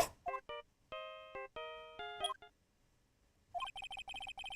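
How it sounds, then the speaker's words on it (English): A phone ringtone plays a theme from the Ace Attorney video game as a bright, synthetic melody of stepped tones, followed after a short pause by rapid repeating electronic chime notes, clear and alone. "I know that song your phone plays when it rings."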